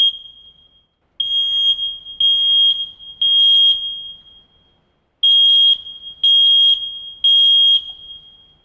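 A smoke alarm being tested at a fire station shrieks in a steady high-pitched tone, broken into short repeated bursts with brief gaps, loud and close.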